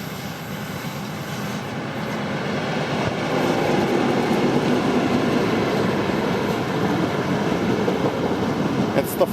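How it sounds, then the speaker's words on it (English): An XPT passenger train passing near Hawkesbury River Station in Ku-Ring-Gai Chase National Park, a broad rumble that swells and then holds steady and loud, heard at moderate distance outdoors. "And we've got a train coming."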